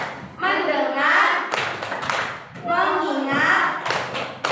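A teacher leads an Indonesian classroom focus routine, chanting in rhythm with a few sharp hand claps cutting through the steady voice.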